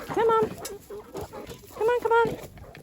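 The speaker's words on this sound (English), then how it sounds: "okay, chickens, come and follow me" Chickens on a flower farm cluck close by in two short bursts of calls, with a person's voice calling to them in between.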